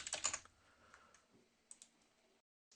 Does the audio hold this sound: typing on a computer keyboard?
yes